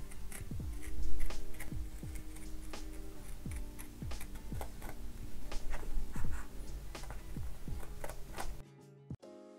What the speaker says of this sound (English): I'm just going to use the scissors because it's a lot easier.